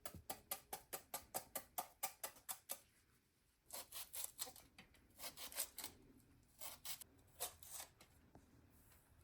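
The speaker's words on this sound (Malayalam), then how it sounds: "ആദ്യമായിട്ട് നമുക്ക് ഈ ചുണ്ടൊന്ന് കൊത്തി അരിഞ്ഞെടുക്കാം" A knife chops banana flower on a cutting board with rapid, evenly spaced cuts, a short pause, then more irregular bursts of chopping, close and fairly quiet with no talking.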